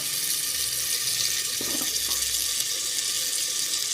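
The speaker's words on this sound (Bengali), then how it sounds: "হালকা একটু পানি দিয়ে দিচ্ছি" A little water is poured into a pan of frying fish curry masala, giving a steady rushing, hissing flow that fills the whole stretch with no talking.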